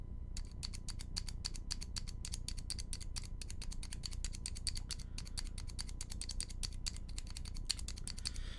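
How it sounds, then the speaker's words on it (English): Brand-new GMK keyboard stabilizers, still unlubed, being pressed over and over in quick succession, giving a steady stream of close, sharp clacks with a scratchy, rattling edge and no talking. "So let's listen to the brand new GMK stabilizers first."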